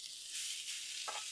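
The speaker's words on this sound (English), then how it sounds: "The sizzle of the bacon." A short burst of loud, close sizzling of bacon on a griddle, bright and crackling, with a brief rising swish near the end.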